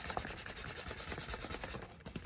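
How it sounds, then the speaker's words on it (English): A cotton bag is rubbed quickly back and forth along a raw leather edge to burnish it, making a close, rhythmic scuffing that continues without pause and without any talking. "I just go back and forth with my my cotton bag."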